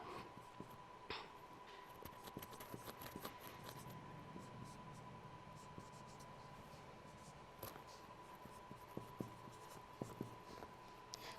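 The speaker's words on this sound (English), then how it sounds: "So I will write the reaction here." A chemical reaction for hexamethylene diamine and adipic acid is written on a board, with faint scratchy strokes and light taps over a quiet room hum, no talking.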